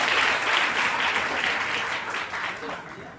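Loud, sustained audience applause at a coaching institute gathering celebrating UP Police selections, with dense clapping that fades slightly toward the end.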